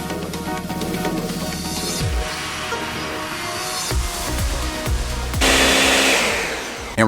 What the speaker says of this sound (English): 1 minute blend coming up here.